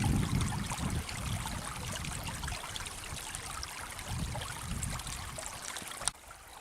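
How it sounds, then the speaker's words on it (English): Creek water bubbling and trickling over rocks in an icy winter setting, a steady close rush with no voices, ending in a brief bump. "and bubbling creeks."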